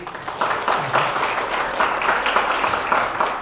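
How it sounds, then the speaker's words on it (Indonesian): Applause from an audience at a campus anniversary celebration opening an event, a steady wash of many hands clapping that swells after a moment and holds without talk. "Tepuk tangan dulu."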